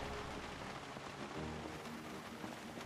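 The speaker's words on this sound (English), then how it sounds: "Wait, the rain! Oh, the rain!" Steady rain falling in the zombie survival game Project Zomboid, a dense even hiss of drops that holds at a constant level throughout, with no voices.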